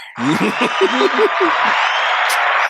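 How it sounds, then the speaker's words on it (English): A group clapping together in a room, a dense, steady round of applause running throughout, with a voice talking over the first half. "And then we're gonna clap together."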